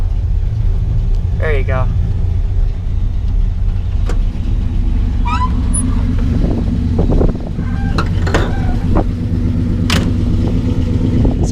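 A 1957 Chevy engine running at a steady, rumbling idle, loud and close, with occasional clatter and a light rev, while someone speaks briefly over it.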